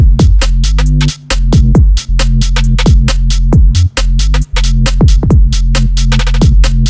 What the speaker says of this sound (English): The bass, it sounds like this.